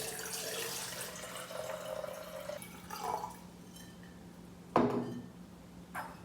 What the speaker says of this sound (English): So let's go ahead and fill it up with water and test it out.